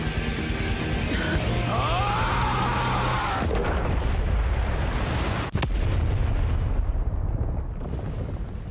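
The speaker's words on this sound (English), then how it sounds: "nothing like a firework to end the night" Loud, continuous booming and crackling bursts fill the clip, with a sharp whistling streak early on and a sudden heavy blast midway.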